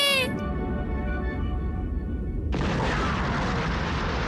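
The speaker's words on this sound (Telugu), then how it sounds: "అగ్నిపర్వతం పేలిపోయింది" A cartoon volcano erupts: a short tonal cartoon sound opens, then a sudden loud, roaring blast bursts in and rumbles on to the end.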